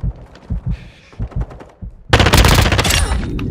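Rapid automatic gunfire bursts erupt loudly in a Call of Duty Modern Warfare II Team Deathmatch match, dense and sustained after a stretch of sparser thuds and shots.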